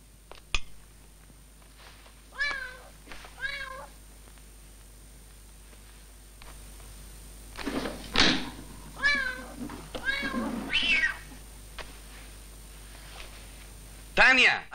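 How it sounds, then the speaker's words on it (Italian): Cat meowing several times in an Italian comedy film scene, with a few distinct, fairly close meows spaced out and people talking between them. "hai comperato un gatto?"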